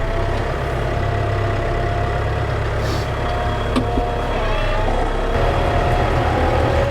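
A tractor engine runs loud and steady while reversing, a constant low diesel drone with a few faint clanks and clicks over it.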